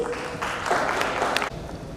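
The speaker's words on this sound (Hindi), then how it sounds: "एक बार जोरदार तालियों के साथ स्वागत करेंगे प्लीज़।" An audience at a Prachi Seeds dealer meet on agricultural modernisation applauds to welcome a guest to the stage, a steady, fairly close burst of many hands clapping that dips briefly near the end.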